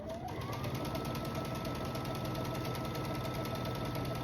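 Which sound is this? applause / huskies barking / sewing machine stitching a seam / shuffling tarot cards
sewing machine stitching a seam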